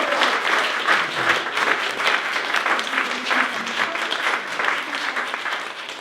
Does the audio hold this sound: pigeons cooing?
no